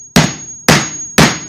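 Three sharp, evenly spaced hammer blows drive a FastCap foldable pocket chisel into a pine board, each strike loud and ringing briefly, with no talking.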